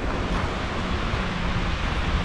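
Sea waves washing onto the beach at Veracruz, Panama, a steady broadband surf roar with wind mixed in, continuous and fairly loud with no distinct breaks and no voices.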